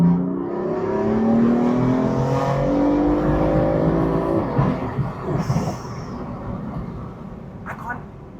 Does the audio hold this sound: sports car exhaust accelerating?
yes